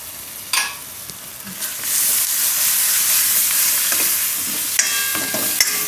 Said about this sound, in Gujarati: હવે બધું મિક્સ કરી લઉં અને ટમેટાં નાખી દઉં.